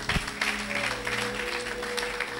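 A church congregation applauds steadily throughout, a dense wash of many hands clapping at once with no pauses.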